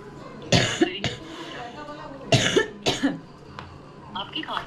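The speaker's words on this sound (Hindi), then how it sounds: "आपकी खांसी नहीं ठीक हो रही है" Several sharp coughs burst out close by, with a throat-clearing rasp between them and a few quieter vocal sounds trailing after.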